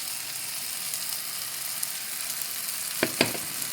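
Lamb meat browning in a hot pan, a steady soft sizzle and crackle of frying throughout, with a couple of brief stirring scrapes near the end and no voices.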